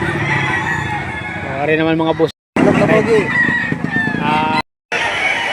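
Roosters and hens crow and cluck at a poultry market in Lipa, Batangas, loud and close, with someone talking over them throughout.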